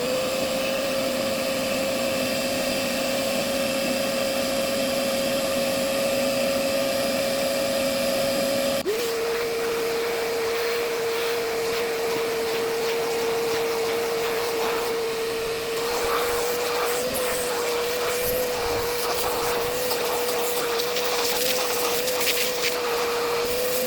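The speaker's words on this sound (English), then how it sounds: "let's grab the vacuum." A vacuum cleaner runs steadily and loud throughout, cleaning out an S-10 pickup truck, with a brief pitch drop partway through as the motor load shifts; no talking.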